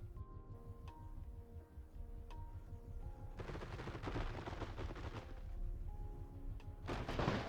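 An automatic spud gun turret in Scrap Mechanic fires at a tree, producing dense rapid rattling bursts mixed with sharp individual shots over a steady low in-game background hum, fairly quiet overall.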